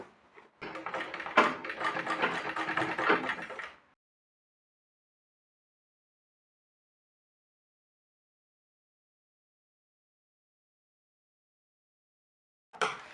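A sewing machine runs a straight stitch on a blouse sleeve, a brief close whirring burst of about three seconds, then near silence until a faint short rattle at the very end.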